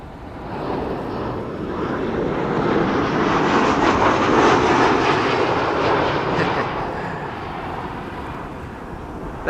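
A Ryanair airliner arriving at Amsterdam Schiphol from Dublin, its jet engine roar swelling from a distance to a loud broad rush as it passes, then slowly fading away.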